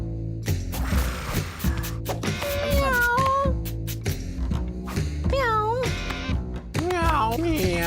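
Cats in the video game Mewgenics meow repeatedly with rising and falling, drawn-out cries over a bed of background game music, while a player talks between them.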